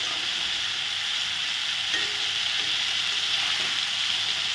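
Vegetarian dhoka lentil cakes fry in hot oil, producing an even, continuous hiss with a couple of faint utensil taps, close and steady, with no voices.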